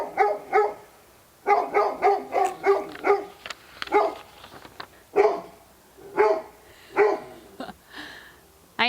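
Dogs bark at a kennel with outdoor runs: bursts of sharp, repeated barks in quick runs separated by short pauses, fairly near and clear, with no talking.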